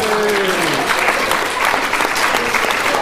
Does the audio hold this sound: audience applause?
yes